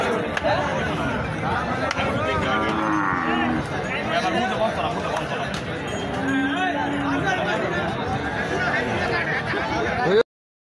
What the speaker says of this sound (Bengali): সাইফুল ভাইয়ের সবচেয়ে বড় ষাঁড় গরুর কালেকশন।